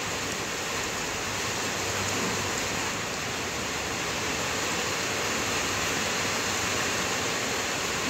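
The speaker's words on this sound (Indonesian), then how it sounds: "Ini ya, hujan tuh, hujan gede." Heavy rain pours steadily and loudly throughout, a dense continuous wash of falling water with no talk, heard during work on a starter motor.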